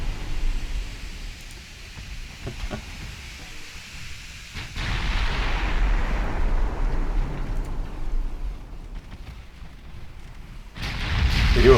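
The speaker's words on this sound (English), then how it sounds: "Just gotta wait for the Cordite chips to explode." Cordite explosions aboard a Bismarck-class ship in the naval video game Ultimate Admiral Dreadnoughts, heard as deep rolling rumbles that swell around the middle and surge again loudly at the end, with no voices.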